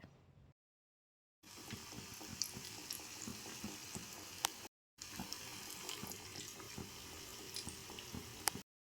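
Paneer pakoras frying in hot oil, a faint, steady sizzle and crackle with small pops, broken by two short silent gaps, with no voice over it.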